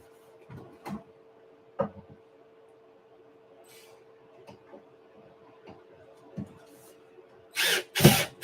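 Makita power tool driving three screws: short bursts of whirring separated by pauses, with a louder, longer burst near the end. A steady hum runs underneath.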